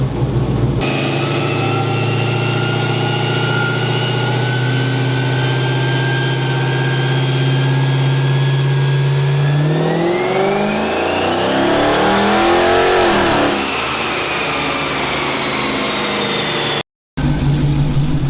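A tuned Chrysler 300 engine with a Hellcat exhaust idles with a steady, choppy lope, then revs up sharply and falls back down before briefly cutting out. Loud and close, with no voices.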